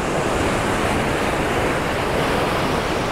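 Sea waves breaking steadily on a beach during shore fishing, a continuous loud wash of surf with some wind noise across the whole stretch and no voices.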